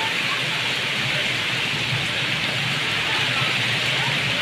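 Heavy hailstorm with large hailstones and rain pelting down, a dense, steady hiss and patter that stays loud and constant throughout, with faint voices beneath.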